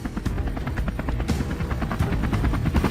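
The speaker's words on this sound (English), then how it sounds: "Helicopters roared overhead, splitting up to scour the terrain for targets." Helicopters fly low over farmland during a wild boar hunt, their rotors thudding in a fast, steady rhythm, loud and close throughout with no voices.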